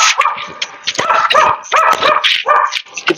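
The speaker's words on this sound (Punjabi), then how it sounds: "ਫਿਰ ਭੱਜ ਗਈ ਕੁੱਤੀ" A dog barks and yips in quick bursts, loud and close, with several sharp barks following each other and a few whimpering yelps between them.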